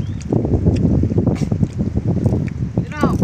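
Strong wind buffets the microphone on a big river during boat fishing, a rough continuous roar with a brief squeaky sound near the end.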